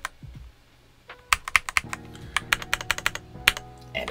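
Typing on a RoyalAxe x ProtoArc R68 65% three-mode keyboard with a knob: a quick run of sharp, close key clicks in an irregular rhythm, some keystrokes bunched together, with no talking over them.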